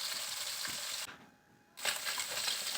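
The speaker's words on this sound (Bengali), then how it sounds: "মাছগুলোকে দিয়ে একটু বেশ ভালো করে ভেজে নিচ্ছি" Mourala fish frying in a pan of hot oil, a close steady sizzle that drops away to near silence for about half a second, then returns just as strongly.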